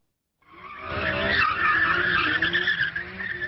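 Cars in a wedding convoy skid across an Istanbul road, a sustained, loud tire squeal that starts abruptly and holds for about three seconds with engine noise beneath.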